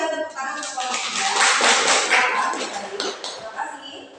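Classmates in a physics classroom clap for a presenting group, a brisk burst of many hands lasting a few seconds, with some talk mixed in.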